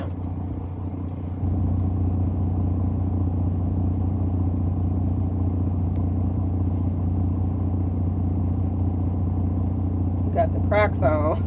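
A semi truck backing into a loading dock door, its engine idling in a steady, close diesel rumble that starts after a brief quiet moment and continues throughout, with a short burst of brighter tones near the end.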